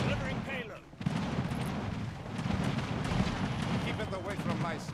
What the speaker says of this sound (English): we're coming in with the battleships on the left side and with a bombing run on the right side